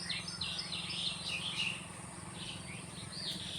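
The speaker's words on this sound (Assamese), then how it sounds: "ইয়াৰ চৰাই মাতবিলাক শুনক" Early-morning birds call beside a road, a steady run of high chirps and short twittering phrases over a constant low hum, somewhat distant and with no speech.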